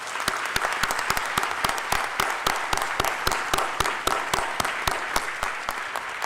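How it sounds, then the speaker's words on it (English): Sustained applause from an audience at a high school academic awards ceremony in the Greensburg Salem School District, steady and dense with sharper individual claps standing out throughout, no talking. "Please join me in giving them a round of applause"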